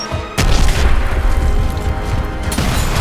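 A grenade blast booms in Gears of War: Ultimate Edition, a loud sudden explosion that rumbles on for a few seconds with a second burst near the end, no voices heard.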